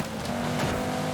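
An Audi in the racing game Forza Horizon 5 slides through a turn on a wet street, a steady loud engine drone with tire noise and no talking.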